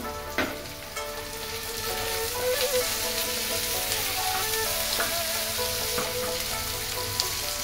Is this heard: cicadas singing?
no